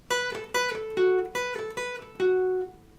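Electric guitar lead phrase from a song, a pull-off figure on the 2nd and 3rd strings played twice: six clear picked notes in two matching groups, the last of each ringing longer, close and alone.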